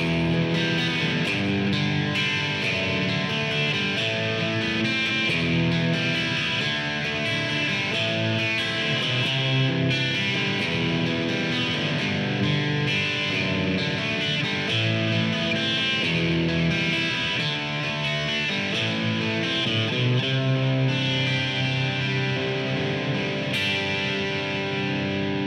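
Melodica playing a chord progression that uses a first-inversion connector chord, sustained reedy chords held continuously and close with no voice for the whole passage.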